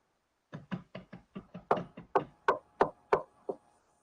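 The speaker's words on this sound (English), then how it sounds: "You need to knock on the door" Roughly a dozen sharp knocks on a door, evenly spaced in a steady run and growing slightly louder, each one close, hard and dry, with silence between them and no voices.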